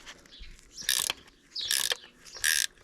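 A spanner ratchets on an alternator bolt of a Triumph Spitfire 1500 during a water pump change, making three short, loud clicking bursts with brief pauses between them.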